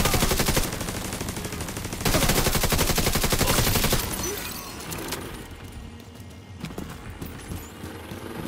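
Sustained automatic gunfire in The Division 2, a dense rattling burst that cuts off, resumes, then gives way to quieter scattered shots and ambient game noise.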